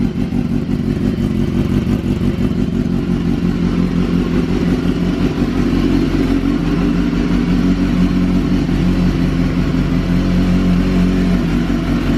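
A 2006 Honda CBR1000RR runs through its stock muffler with the catalytic converter deleted. The engine is loud and close, with a rough, steady mechanical clatter and swelling revs throughout, and no voices.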